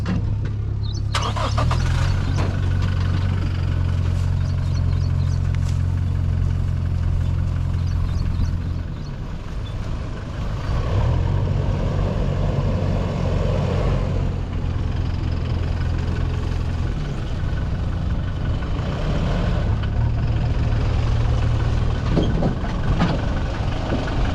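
A Toyota Hilux engine drives off-road in road mode, a loud low drone that rises in repeated revving surges, dips briefly midway, then climbs again, with no voices.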